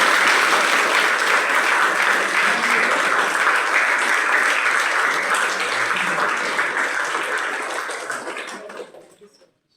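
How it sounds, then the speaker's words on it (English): An audience at a college orientation program applauds loudly and steadily for several seconds as a dense, even wash of clapping, which then tapers off and fades to silence. "At least a big round of applause."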